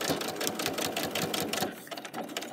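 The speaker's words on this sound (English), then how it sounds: "we're going to go start back over the top of the stitching where we were before" A sewing machine stitches back over an earlier seam on a lace zipper pouch, a steady close mechanical whir with rapid needle pulses that keeps running, then eases slightly near the end.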